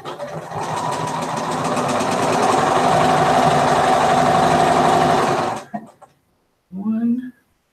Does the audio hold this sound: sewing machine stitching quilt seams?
yes